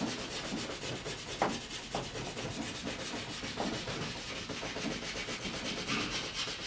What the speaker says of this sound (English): So I I just go straight to the steel wool, and I just take one little spot at a time and just really bear down on it.